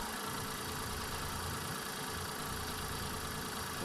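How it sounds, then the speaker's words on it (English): A Hyundai Eon's small car engine idling steadily right after an oil change, a constant even hum heard up close with no revving or talking. "Idle is good."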